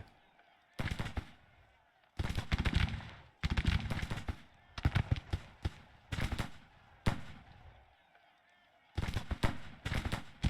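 Cannon and musket fire in the Civil War strategy game Grand Tactician: The Civil War, several loud broadband bursts recurring at irregular intervals, each volley rumbling and trailing off before the next.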